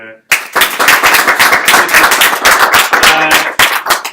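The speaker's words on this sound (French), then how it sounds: "moi je pense que ça mérite des applaudissements" A conference audience bursts into sustained applause, dense overlapping claps rolling steadily for several seconds after a brief quiet start.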